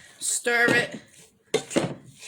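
A spoon clatters against a pot as sausage and rice are stirred, giving two short bursts of scraping and knocking close by, with a voice heard around them.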